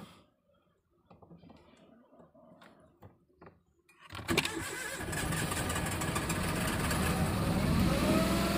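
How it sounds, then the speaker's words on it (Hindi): A car engine cranks and catches after quiet handling sounds, started without a key by wiring the starter, then settles into a loud, steady idle that fills the rest of the clip. "गाड़ी अपनी स्टार्ट हो चुकी है"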